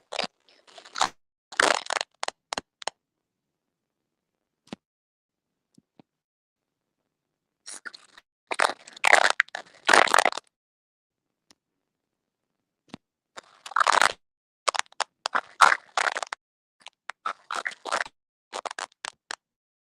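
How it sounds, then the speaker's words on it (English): Bursts of dry crackling crunches like someone chewing potato chips, arriving in irregular clusters separated by long silent gaps, fairly close and sharp with no voices. "It sounds like somebody's crunching on potato chips or something."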